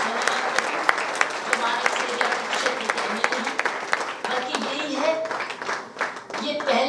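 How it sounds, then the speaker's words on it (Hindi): An audience claps for a national vice chairman at a public talk, steady crowd applause with sharp individual claps standing out, loud and continuous and fading somewhat toward the end. "आप इनके लिए तालियां बजाओ"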